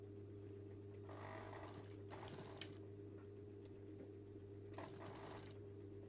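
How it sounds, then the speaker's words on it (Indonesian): A sewing machine stitches the draped cowl neckline of a dress in several short bursts over a constant low motor hum. "Kemudian kita tinggal jahit ya dari dalam."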